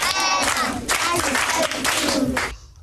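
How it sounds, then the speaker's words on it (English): Students clap for themselves after a teacher's prompt, a dense burst of applause from a crowd filling the room for about two and a half seconds before fading out abruptly. "Clap for yourselves."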